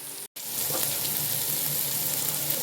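A masala of chilli and spices sautéed in a pan gives a steady, close sizzle that runs almost unbroken after a brief gap near the start, with no voices.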